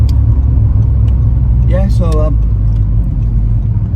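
A 103 bhp Seat Ibiza 6J 1.4 SE car engine hums loud and steady at close range throughout, a low constant drone while someone speaks briefly over it.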